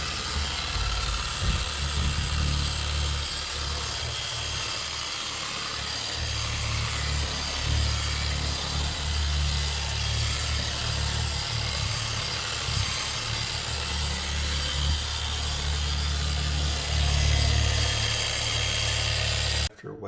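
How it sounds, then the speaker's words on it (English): A steady, continuous mechanical whir of a dual action polisher wet sanding a countertop with 320 grit, with a constant low hum, running without pause until it abruptly stops at the end. "after wet sanding with the 320, that's a lot smoother"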